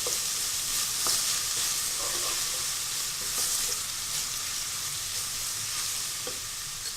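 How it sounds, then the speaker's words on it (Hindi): Garlic frying in hot oil, a steady broadband sizzle with a few faint clicks of a utensil, continuous and close, with no talking. "लहसुन को थोड़ा सा भूनेंगे"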